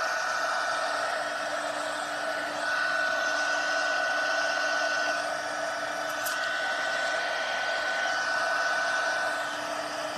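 A heat gun blows steadily on white cardboard for a craft card, giving a constant, close-up whooshing hiss with a faint steady whine that continues unbroken for the whole stretch.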